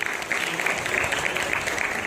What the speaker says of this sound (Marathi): टाळ्या वाजवा सगळ्या मुलींसाठी